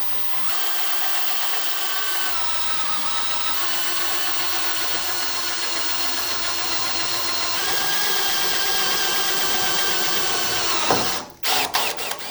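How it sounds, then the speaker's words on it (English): A power drill bores a hole for a nylon drain connector, whining steadily and close for about eleven seconds before the bit breaks through and the motor stutters and stops. "So I'm going to drill a hole through here, and we'll install our nylon drain connector."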